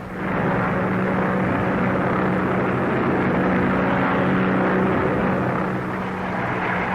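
Propeller engine of a 1930s airplane flying overhead, a loud steady drone that holds for the whole stretch with no voices.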